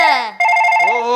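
A telephone rings loudly and close by with an electronic, warbling ringtone, cutting off for a split second before sounding again.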